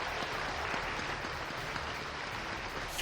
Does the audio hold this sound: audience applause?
yes